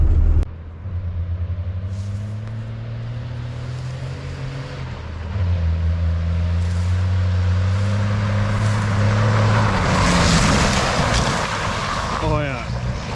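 A first-generation Cummins diesel truck rumbles along dirt roads, its engine note climbing as it accelerates, then a loud splashing surge as it rallies through a muddy puddle, with voices in the background.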